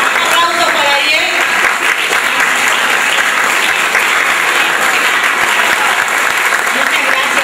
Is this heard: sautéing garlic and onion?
no